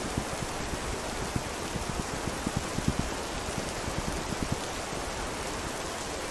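Rain falling in the survival video game This Land Is My Land, a steady soft hiss of rainfall with scattered faint drop taps, continuous and fairly quiet throughout.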